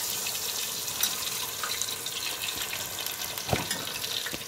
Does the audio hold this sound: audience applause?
no